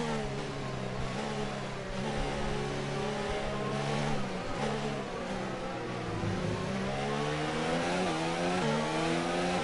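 A Honda-engined Formula 1 car in a racing video game, set at the French circuit, accelerates hard, its high engine note climbing steadily through the gears and holding loud and close throughout, with no voices.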